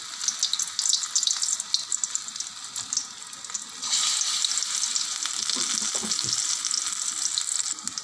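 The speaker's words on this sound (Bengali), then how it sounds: "যে পকোড়াগুলো একটা একটা করে ভেজে নেব।" Prawn pakoras deep-frying in hot oil give a steady close hiss that swells louder about halfway through, when more pieces go in, with small crackles and clinks over it and no talk.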